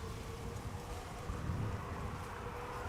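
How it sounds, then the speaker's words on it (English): Steady wind blows at the Polderbaan runway at Schiphol Airport, a broad, even rumble buffeting the microphone throughout, with a slight surge midway and no voices. "A little bit more wind."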